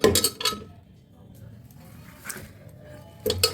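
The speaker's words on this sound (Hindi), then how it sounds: "कुकर में इसको हम डालते जा रहे हैं" Chopped bathua greens go into a pressure cooker, giving a few sharp metallic clinks and clanks at the start, midway and at the end, separated by quiet kitchen stretches.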